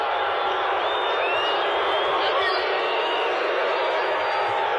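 A huge stadium crowd of 94,000 roars and boos at a concert, a dense, continuous wall of voices from far off with a few whistles cutting through.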